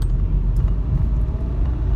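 A car accelerates on a driving-exam course in Pendik after slowing over a speed bump, its engine rumbling low and steady for a brief moment without speech.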